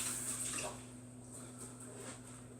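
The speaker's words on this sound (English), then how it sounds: "There, my hands are washed." Running water from a kitchen tap splashing steadily over hands being washed, a continuous close hiss that eases slightly after the first half second.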